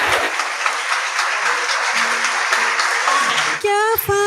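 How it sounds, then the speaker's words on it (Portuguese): Church congregation applauding a newly engaged couple at a Sunday Mass engagement blessing, a dense steady wash of clapping throughout, fading at the end as a tonal sound rises. "E vamos dar uma salva de palmas."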